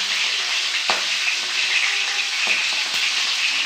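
Dried red chillies frying in a pan, a steady, close sizzling hiss with a few soft scrapes of stirring, continuous and fairly loud with no talk.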